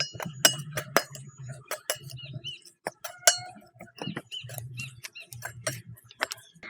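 A utensil clinks and scrapes in a pan as fried beef pieces are stirred into the masala for Kerala-style beef pickle, giving irregular metallic taps over a low, soft sizzle.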